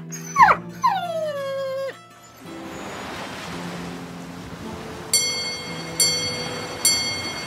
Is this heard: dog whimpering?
yes